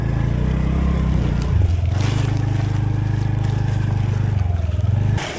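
A scooter engine drones and revs through thick mud on a rough mountain track in Taplejung, Nepal, the motor pitch dropping and rising as it strains, loud and close with no talk.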